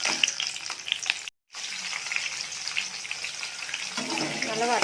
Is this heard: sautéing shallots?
yes